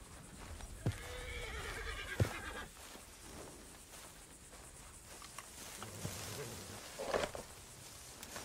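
A horse in a video game whinnies in a long shaky neigh, with hoof clops, snorts and a light patter like rain around it, and a voice murmurs briefly.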